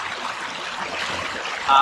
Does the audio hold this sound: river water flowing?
yes